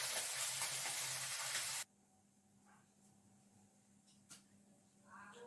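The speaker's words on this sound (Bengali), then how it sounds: "তো এটা ভেজে তারপরে এই সবজিটা বসাবো" Vegetables frying in a hot pan, a loud, dense sizzle that cuts off sharply after about two seconds, followed by quieter kitchen sounds and faint clatter.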